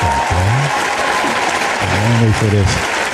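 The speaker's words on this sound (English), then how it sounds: "Wait for the claps to simmer down a little bit while I sit." Studio audience applauding at the start of a live talk show taping, a steady broadband wash of clapping that carries on under a voice speaking over it.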